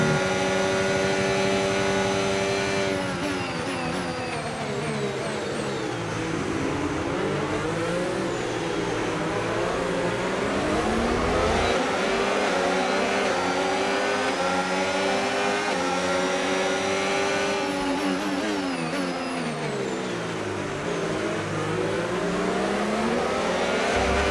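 F1 race cars accelerating in F1 25 at the Belgian Grand Prix, high-pitched screaming engines rising through the gears in repeated sweeps, loud and sustained with no talk.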